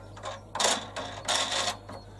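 A nut is run down onto a bolt on a mower handle during assembly, heard as a few short, close scraping and ratcheting bursts in quick succession over a low steady hum.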